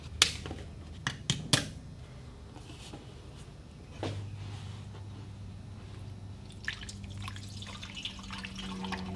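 Coolant poured into a Bronco radiator, faint sloshing and dripping liquid with a few small splashes and a low gurgling trickle, quiet and close.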